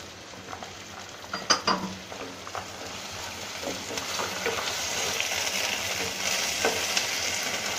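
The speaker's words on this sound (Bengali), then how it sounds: "আদা রসুন কষানো হয়ে গেছে।" Ginger garlic paste fries with browned onions and salt for aloo dum, sizzling steadily and close while a spatula clatters and scrapes a few times early on, then the hiss grows more even.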